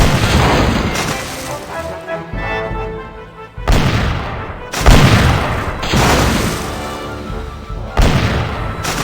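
Heavy cannon fire in The Curse of Monkey Island, a series of loud booming blasts about a second apart with rumbling decays, close and dominant.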